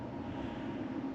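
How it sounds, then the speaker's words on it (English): A plane coming in to land over a bay sends a steady, broad low rumble, distant and continuous, with no voices. "Oh, there's a plane coming into land just up there."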